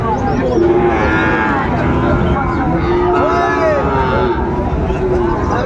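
A cow at a Chattogram cattle market lets out a couple of drawn-out moos, loud and close, over steady crowd babble and people talking.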